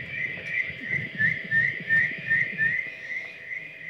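A little plain brown tree frog calls in a rapid, steady series of short high-pitched notes, clear and fairly close, with no talking.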